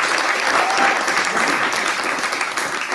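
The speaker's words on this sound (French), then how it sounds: "on va les applaudir" A hackathon audience claps loudly for the presenting team, a dense, close burst of steady applause filling the whole stretch.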